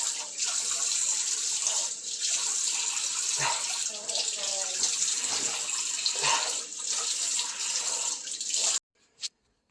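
Water runs steadily from a tap as something is washed under it, a continuous splashing rush with small shifts in flow, cutting off abruptly near the end before a short final splash.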